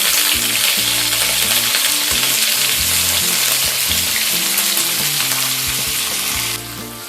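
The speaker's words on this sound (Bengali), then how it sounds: "আলু সামান্য একটুখানি ভেজে নেবার পর এর মধ্যে আমি ফুলকপির ডাঁটাগুলো দিয়ে দিচ্ছি।" Cauliflower stalks frying with potatoes in a pan give a loud, steady sizzle with low stirring scrapes throughout, easing slightly near the end.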